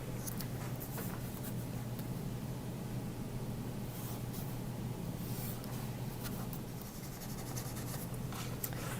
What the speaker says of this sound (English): I typically start by drawing a bunch of lines all over my paper.